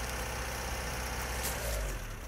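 A Škoda Felicia's engine revs hard and steady, a loud continuous roar with a slight swell near the end and no voices.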